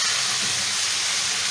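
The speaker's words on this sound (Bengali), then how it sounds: "এখন আমি এটা ভাজি করব।" Kela kochu shak greens fry in a pan, giving a loud, even, steady hiss with no breaks or voices over its short length.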